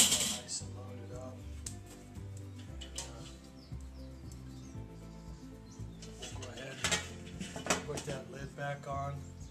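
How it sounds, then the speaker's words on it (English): Pieces of charcoal dropped onto a grill while cooking ribs, clinking and clattering metallic knocks in an irregular rhythm, close, with steady background tones and someone talking at times. "I'm gonna put a couple more pieces of coal in."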